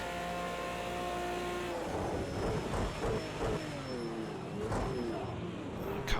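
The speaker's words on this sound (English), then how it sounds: "Unleash all that power from the V12. It sounds absolutely glorious." Aston Martin V12 engine in Project CARS 2, racing at Monza, a smooth sustained roar with tonal harmonics that rise and fall through gear changes and revs, loud and continuous with no voices.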